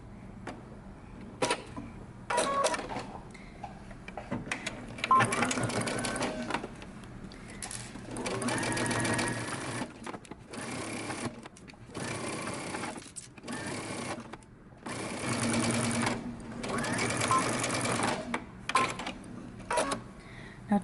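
Sewing machine stitching the band seam of a romper in repeated short runs of rapid, close mechanical stitching, separated by brief pauses as the fabric is repositioned.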